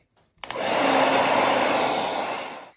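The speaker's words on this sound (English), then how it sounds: "I'm going to be using a hair dryer to let it dry faster." A hair dryer drying paint switches on with a click and blows steadily, a loud continuous airy whoosh with a motor hum, then trails off near the end.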